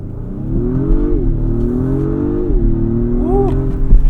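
An Acura MDX Type S with a 10-speed automatic pulls away from a start, engine note climbing steadily, dropping briefly at a shift, then rising again through the next gear, loud and close from inside the cabin.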